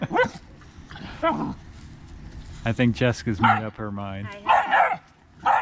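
Puppies wrestling and playing while giving several short, high-pitched barks and yips, heard close by in bursts between a person's speech.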